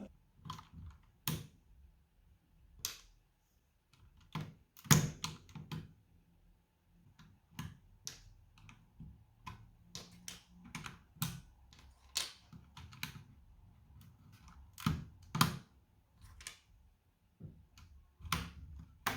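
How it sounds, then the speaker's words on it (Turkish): Keycaps on a Logitech G710+ mechanical keyboard being pulled off by hand, giving sharp, scattered plastic clicks and snaps at an irregular pace, close and fairly quiet with no talking. "G710 Plus'ta ve genelde diğer mekanik klavyelerde tuşlar elle de rahatlıkla çıkartılabiliyor"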